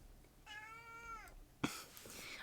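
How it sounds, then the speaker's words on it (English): A cat gives one clear, drawn-out meow at moderate distance, followed by a short bump and soft rustling noise. "My cat is back."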